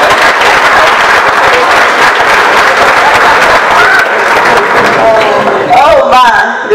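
Guests at a club's steak fundraiser dinner applaud in a loud, dense wash of clapping that holds steady and then thins out, with voices rising near the end.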